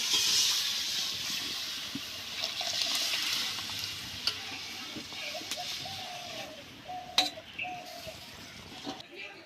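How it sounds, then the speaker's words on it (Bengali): Methi dal, lentils with fenugreek, bubbles and boils in a pot as a steady, faint hiss of simmering with occasional soft pops, and a faint voice is heard in the background. "ডালটা টকবক করে ফুটছে"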